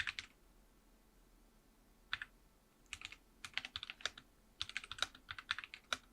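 Keystrokes on a North Odin Pro Bluetooth keyboard paired to a phone, coming as short bursts of crisp close clicks separated by pauses, then a longer run of quick typing in the second half, with no talking.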